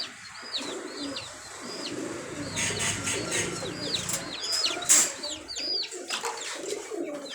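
Ferozpuri pigeons coo and call repeatedly in a loft or shop, a chorus of soft rising and falling notes at close to moderate distance over low background noise.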